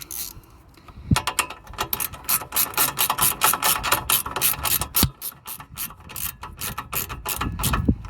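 A hand ratchet tightening hose clamps on a 3-inch turbo intake pipe of an Audi TT with a K04 turbo, loud and close, with rapid runs of clicks broken by a few short pauses and heavier clunks.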